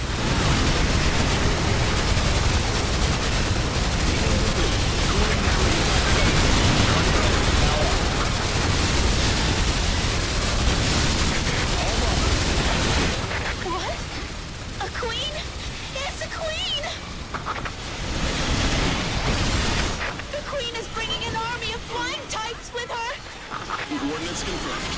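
Dense, continuous gunfire and explosions roar loudly in EDF 5 during a fight to destroy a nest, with shouted voices over the din, then the barrage thins into scattered bursts and calls.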